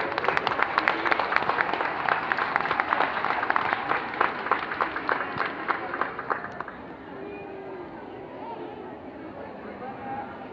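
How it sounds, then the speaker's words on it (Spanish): A school audience at a Mexican Independence Day celebration claps in a dense burst of applause that lasts several seconds and then fades into a low murmur of crowd chatter. "Un aplauso, por favor."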